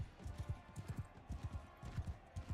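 Horse hooves clop in quick rhythmic bursts as a mounted fighter charges on a fresh horse in a medieval combat game, moderately loud and close, with no other sounds over them.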